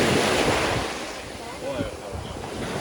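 Surf rolling onto the Sea of Azov shore at Mariupol, a continuous wash of waves with heavy wind buffeting the microphone and possible faint voices in the background.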